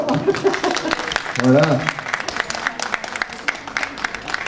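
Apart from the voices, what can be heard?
audience applauding after plate is finished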